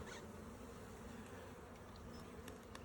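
Honeybees hum inside an opened hive during an inspection, a steady dense colony drone filling the whole stretch without talk.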